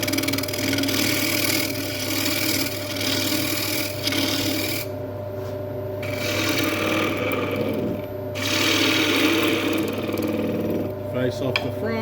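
A wood lathe turns the inside of a Blackwood bowl with a 1/2 inch bowl gouge, giving a steady motor hum under a rough scraping cut that rises and falls in passes.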